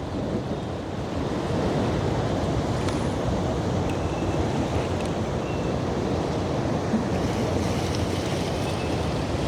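Ocean breeze at the shore in the Philippines, with steady surf washing in and wind buffeting the microphone in a constant, even roar for the whole stretch.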